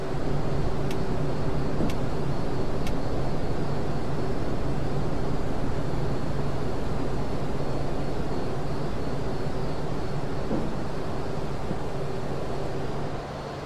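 Steady, loud broadband roar fills the cockpit of airliner JJ3559 on approach to land at SBFI with the landing gear down, a low engine hum running underneath, three faint ticks early on, and no voices.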